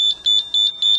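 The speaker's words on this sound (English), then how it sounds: "This is actually a beep kick ball that has an internal sound source" Electronic beeps from the internal sound source of a beep kick ball used for a modified team handball game, a steady series of four high, sharp pulses evenly spaced, close and clear, with no voices.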